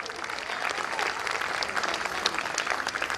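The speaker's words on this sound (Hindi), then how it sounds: "एक बार जोरदार तालियां बजा दीजिए।" A temple gathering's audience applauds steadily at a moderate distance, a dense even patter of many hands sustained for a few seconds without a clear break.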